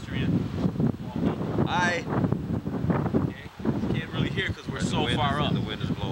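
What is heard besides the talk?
wind blowing outdoors in Miami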